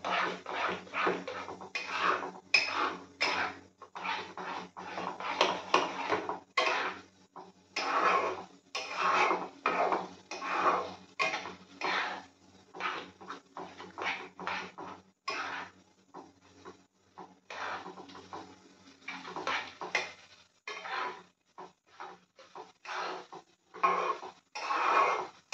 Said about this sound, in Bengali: ভালো করে এবার এটাকে মিক্স করে নেব।